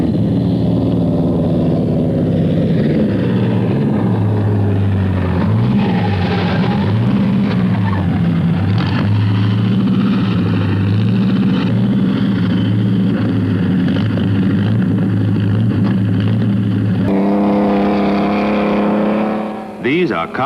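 Several 1920s racing cars roar along with droning, throbbing engines, pitch swelling and dropping as they pass and rev, continuous and loud throughout with talk mixed in over the motors.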